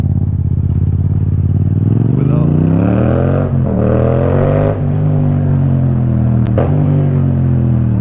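A 2015 Yamaha MT-07 motorcycle engine drones loudly up close while riding, pitch rising and dipping through shifts and throttle changes, with steady wind rush and a brief sharp click near the end.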